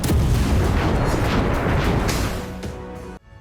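Heavy, continuous rumbling bursts of Ukrainian artillery fire on the front near Donetsk in the Russia-Ukraine war, loud and dense for about three seconds before cutting off abruptly.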